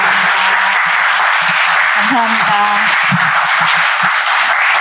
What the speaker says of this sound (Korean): 긴 시간 진심을 담아서 귀한 이야기 전해주신 김지연 작가님께 다시 한번 큰 박수